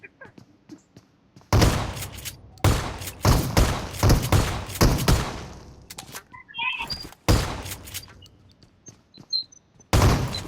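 Bursts of gunfire in the mobile shooter BGMI, several loud, rapid volleys separated by short gaps, with a few thin chirps and blips between them.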